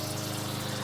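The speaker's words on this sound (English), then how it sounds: "I'm going to add some water, and you have to be sure to use soapy water" Soapy water pours steadily into a container holding a paver, a continuous close gushing splash with no talk over it.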